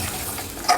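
Sizzling and stirring as water is poured into fried masala in a pan, a steady close hiss and scrape with a brief louder splash burst near the end, no voices.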